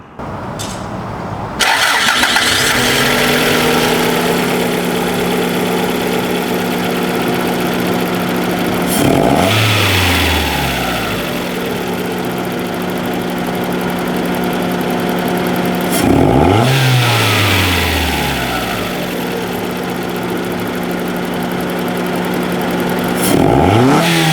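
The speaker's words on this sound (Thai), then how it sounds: "มาฟังเสียงเครื่องยนต์กัน" A Suzuki Vitara engine starts and idles loudly and steadily up close, with a few sharp revs rising and falling every several seconds.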